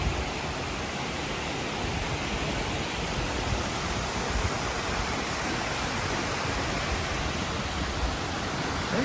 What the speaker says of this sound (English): There are the waterfalls back behind me.